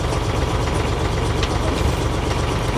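A boat engine idles close by with a steady low chugging throb, continuous and unvarying throughout.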